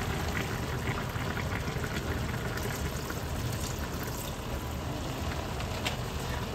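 Vinegar is poured into pork adobo boiling in a non-stick pan, making a continuous close liquid rush and sizzling bubble over the whole stretch, with a few sharper splashes and no voices.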